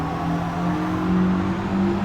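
Race car engine in Gran Turismo 7 held under throttle, a steady loud droning rev with shifting harmonic tones over a short stretch.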